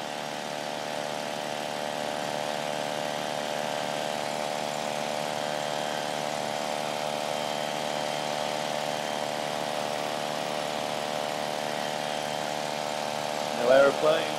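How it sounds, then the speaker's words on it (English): A light aircraft engine drones steadily in flight on a beach fly-in at Lancashire Landing, an even, moderate hum with propeller tones throughout and a brief bump of other noise near the end. "Hear the engine, can't you?"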